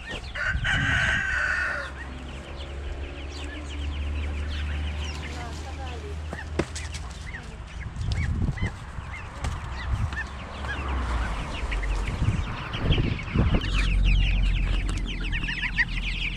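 Chickens cluck and a rooster crows loudly near the start, followed by steady clucking and squawks from a flock in a poultry yard with about forty chicks. People talk at times over the birds.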